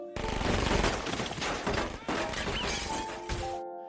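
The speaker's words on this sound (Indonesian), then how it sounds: "Mereka baku tembak dengan para mafia Cina tersebut." A film shootout between police and Chinese mafia at a hotel, with dense bursts of rapid gunfire and shattering glass over a loud, sustained stretch of about four seconds. The clip then cuts off abruptly into silence.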